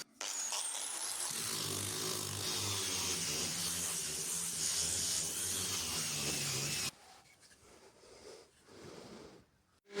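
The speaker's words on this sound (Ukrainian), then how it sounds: "Починаємо зі шліфування, фіксуємо, шліфуємо." Wooden axe-shaped handles for a shashlik board are sanded in a steady, hissing abrasive rasp that runs loud for about seven seconds, then cuts off abruptly to quieter handling noise.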